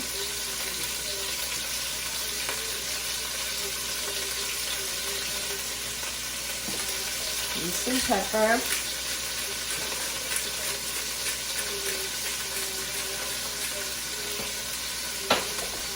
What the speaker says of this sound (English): All right, so we're just gonna throw the pieces in. Hear that sizzle?